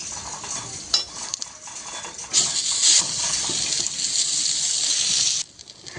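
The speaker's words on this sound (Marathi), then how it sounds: "आता इथे आपण कांदे भाजून घेणार आहोत भाजलेलेच कांदे पण थोडंसं तेल टाकून आपल्याला त्याला परतून घ्यायचं आहे" Onions being sautéed in a little oil, a steady broadband sizzle with a few scraping stirs, loud and close, cutting off sharply near the end.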